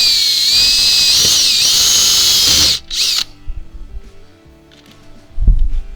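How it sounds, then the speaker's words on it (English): A power drill whines loudly at high speed for a few seconds drilling bolt holes for an RV awning installation, then stops, followed by quieter handling knocks and a thump. "drilling with our drill bit and then going in with the bolt afterwards."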